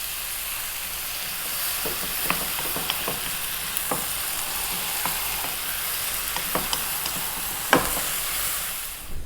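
Corned beef frying over fairly high heat in a pan, a constant close sizzle broken by scattered scraping stirs and taps of the utensil, no voices.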